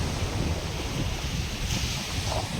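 Sea waves wash onto the shore by a harbour with boats, a constant broad roar mixed with gusting wind buffeting the microphone.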